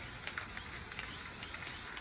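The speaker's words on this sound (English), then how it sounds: "Your turquoise and your black, just spray all over." Turquoise and black spray paint hissing steadily from aerosol cans over about two seconds, a continuous close airy spray with small clicks and sputters, no voices.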